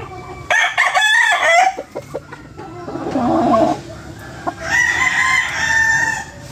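Several Golden Boy gamefowl roosters on a game farm crow nearby, loud repeated cock-a-doodle-doo calls overlapping with clucking and other fowl sounds, and nobody speaks.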